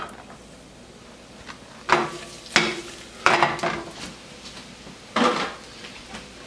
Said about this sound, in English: Let those saute up.